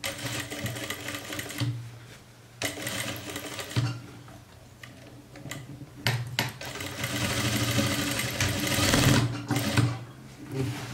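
A sewing machine stitches a jumpsuit in bursts, its motor whirring loudly for several seconds at a time between short pauses, with the longest, steadiest run near the end.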